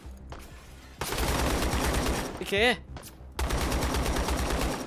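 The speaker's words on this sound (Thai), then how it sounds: "เสียงปืนป๊อปแรป๊อปแปะ รอบๆเลยเหรอ" Gunfire erupts all around in a Black Hawk Down video game: loud, dense automatic bursts fill the scene, broken by a short pause with a whistling tone, and a voice speaks briefly.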